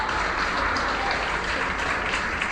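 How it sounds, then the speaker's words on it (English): Dense, continuous applause from a crowd in SpaceX Mission Control after a booster landing fills the space, steady and loud throughout with no distinct voices. "An eruption of applause here at SpaceX Mission Control"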